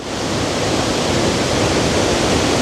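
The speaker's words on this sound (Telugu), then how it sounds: "ఇది ఫ్రెండ్స్ వాటర్ ఫాల్స్ అయితే, తరబు వాటర్ ఫాల్స్. పై నుంచి వాటర్ అయితే పడి కిందకు వస్తుంది." Tarabu (Pittala Borra) waterfall in a natural forest setting, heard as a loud, steady broadband roar of falling water that stays constant throughout with no voices.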